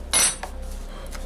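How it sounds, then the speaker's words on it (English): Metal canteen cup handles fold down with one short, bright clink and clatter near the start, then a faint rustle of tin foil laid over the top. No one speaks. "we'll fold these handles down, put this tin foil over the top here"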